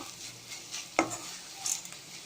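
A spoon or spatula stirs salted ponnanganni spinach poriyal in a pan, with soft scraping and one sharp clink against the pan over a faint steady background hiss.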